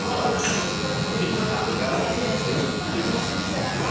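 Large electric hair clipper cutting very long hair up close, a continuous even buzz that holds steady throughout.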